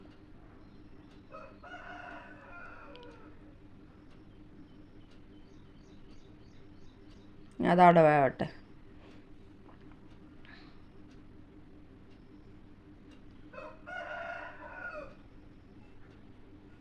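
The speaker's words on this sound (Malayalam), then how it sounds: "വല്ലാത്തൊരു കോഴിക്കൾ നമ്മളതൊന്നും അല്ലട്ടോ മക്കളെ, അയലോക്കത്തുള്ള കോഴിക്കളാണ്" A neighbour's rooster crows once at a distance, a loud rising cock-a-doodle-doo in the middle of a kitchen scene, with brief speech before and after it and faint steady background hum throughout.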